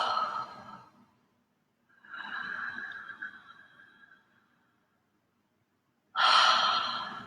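Slow, relaxed exhales during an exhalation breathwork session, three long audible breaths separated by silent pauses, close and fairly soft, the last one stronger and breathier.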